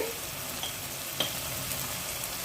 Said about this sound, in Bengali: একটু ভাজা ভাজা হোক, গন্ধ বেরো, আমি এতে মশলা দিয়ে দিই